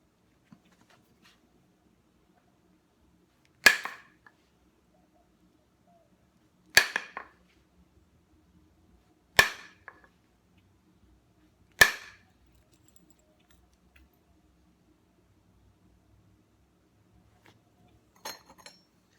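Stone knapped with a junk hammerstone under hard blows, the edges failing and flakes running short and hinging: four sharp, loud cracks at spaced intervals, then a fainter clatter at the end, with no talk.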